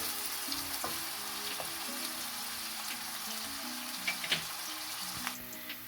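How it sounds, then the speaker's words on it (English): Onions fry in a pan, giving a steady, close sizzle and crackle throughout, with a few soft clicks and pops near the end. "Okay, so the onion is starting to fry now. Okay, let it just fry for a few minutes."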